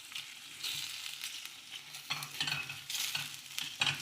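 Seafood searing in a hot pan as a gazpacho ingredient, giving a steady close sizzle and hiss with scraping stir noises and small pops throughout.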